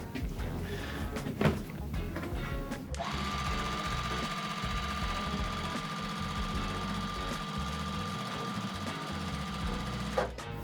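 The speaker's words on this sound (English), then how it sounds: "I'm gonna go ahead and sew my last seam here" A sewing machine stitches the final seam of a quilt, running in a steady, continuous mechanical whir for most of the stretch after a few brief handling knocks at the start.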